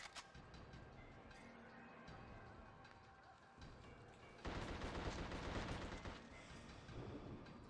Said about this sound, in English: Man, Tommy guns are cool no matter the game.